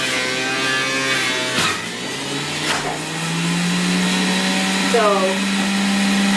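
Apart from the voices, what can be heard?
masticating juicer running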